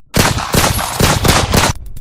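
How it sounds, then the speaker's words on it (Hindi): Loud, sustained burst of automatic gunfire from a weapon fired at advancing jungle men in a Raj Comics thriller, dense rapid shots for nearly two seconds, then a few trailing echoes. "कंचन ने आगे बढ़ते जंगलियों पर गोलियां बरसा दी"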